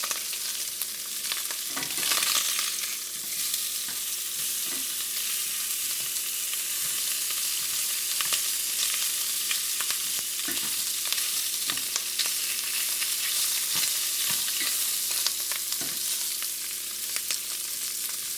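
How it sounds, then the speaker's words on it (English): Andouille sausage searing in a hot pan, a loud, dense, continuous sizzle and crackle with scattered pops throughout, close up and unbroken, no one speaking. "We're just trying to sear the sausage a little bit."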